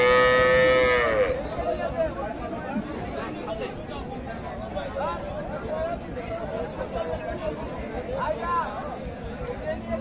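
Cows with calves, including Sahiwal and local deshi breeds, at a busy cattle market: one loud, close moo opens, then a steady hubbub of crowd chatter fills the rest.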